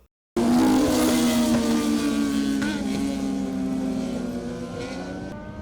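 A drag racing machine at a drag strip in Timehri, Guyana, roars to life suddenly and holds a loud, sustained engine drone with slowly falling pitch, close and alone.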